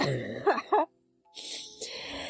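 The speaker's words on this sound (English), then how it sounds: "I have been coughing." Two short, throaty coughs come close together, followed by a brief silence and then a stretch of hissing noise.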